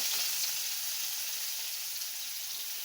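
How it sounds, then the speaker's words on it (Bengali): Chopped onion dropped into oil left over from frying potatoes, giving a strong, steady, close hiss and sizzle that holds at an even level throughout. "যে তেলটা আছে ওই তেলের মধ্যে দিয়ে দেব কুচি করা পেঁয়াজ"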